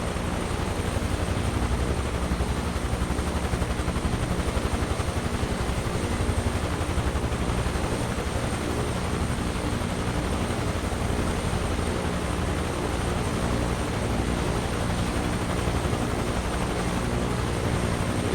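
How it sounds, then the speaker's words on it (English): Steady, loud rotor thump and turbine whine from a Bell UH-1 Iroquois Huey helicopter in Microsoft Flight Simulator 2024, a constant close drone with no talk. "Is that a Huey? H1 Iroquois, man."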